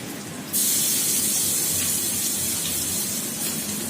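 A paste of ginger, garlic and chili hits hot oil with a sudden loud hiss that settles into a steady, close sputtering sizzle.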